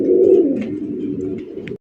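A Raj Golla pigeon gives one close, low, throaty coo that rolls on for under two seconds, alone.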